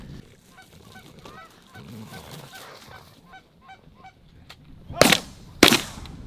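Geese honking over open ground as birds lift off a roost during an early season goose hunt, a steady chorus of overlapping calls, then two loud sharp gunshot blasts near the end.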